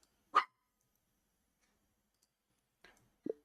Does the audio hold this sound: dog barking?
yes